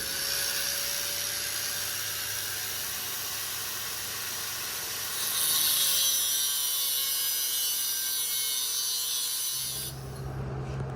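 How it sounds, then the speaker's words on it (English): An angle grinder cuts a metal bracket with a steady, loud, continuous whine and hiss that rises partway through, then winds down near the end. "so we're just gonna use a grinder real quick"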